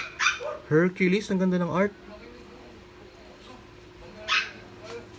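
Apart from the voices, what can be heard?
dogs barking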